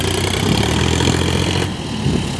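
A Sonalika DI 50 Sikander tractor, one tyre and its trolley tyre gone flat, pulls a loaded trolley with a loud, steady diesel rumble that eases slightly near the end.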